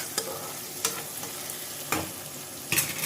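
Tomatoes fry in a pan for roasted chicken, a continuous soft sizzle broken by several brief scraping stirs of a spoon, close by with no talking.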